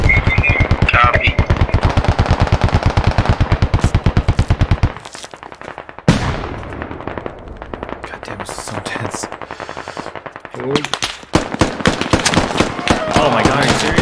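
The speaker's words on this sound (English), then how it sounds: "What are you shooting at?" Rapid automatic gunfire from the military video game Squad rattles loudly in a fast burst, then sporadic shots and crackles follow, with players talking over the game audio.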